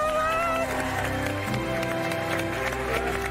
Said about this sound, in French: faut les applaudir, bravo